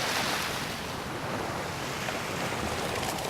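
Ocean surf washing onto the French coast, a steady broadband roar of breaking waves with wind noise buffeting the microphone throughout, no voices.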